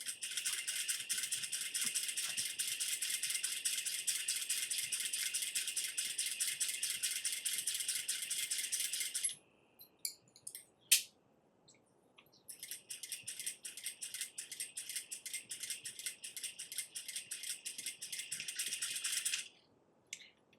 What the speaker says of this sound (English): I'm going to stitch up this side of my zipper.